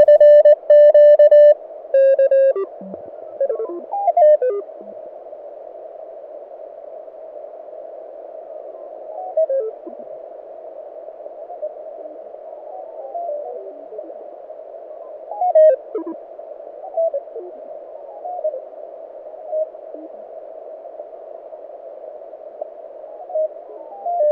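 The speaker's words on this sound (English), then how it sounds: "you can hear the end of band signal" A steady electronic tone from a Mountain Topper MTR3B radio's end-of-band signal at the bottom of the 40 meter band sounds briefly, then cuts to a constant single-pitch hum with faint radio chirps and blips drifting through it.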